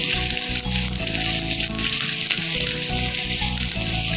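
Green chillies and curry leaves sizzle in hot oil for a Kerala-style egg curry, a constant bright crackling hiss throughout, close and fairly loud.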